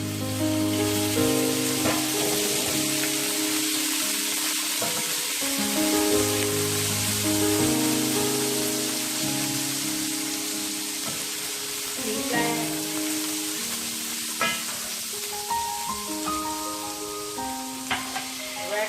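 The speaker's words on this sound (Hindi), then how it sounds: "2 टेबल स्पून ऑयल लेंगे और इसमें ऐड कर देंगे अपना जिंजर गार्लिक पेस्ट" Ginger garlic paste frying in two tablespoons of hot oil for a buffalo sauce, a steady close sizzle running throughout under background music, with a few brief stirring clinks.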